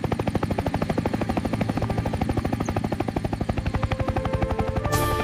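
A police helicopter flies over a jungle in a Hindi cartoon, its rotor beating in a loud, steady, rapid chop that continues without a break.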